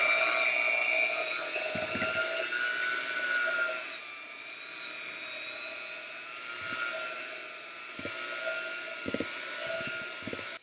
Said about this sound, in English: I'm going to use my beaters again, just so that it's all incorporated evenly